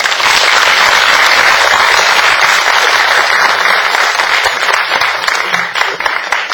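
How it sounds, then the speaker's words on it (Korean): An audience at a book concert breaks into loud, sustained applause, dense clapping that stays strong throughout and only begins to thin and waver near the end. "다시 한번 뜨거운 박수 부탁드리고요"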